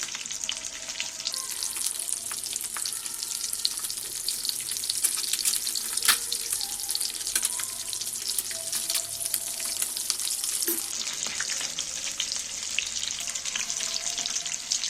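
Eggs fry in hot oil in a pan as they are turned one by one, giving a steady, close hiss and crackle with a few brief scraping touches and no talk.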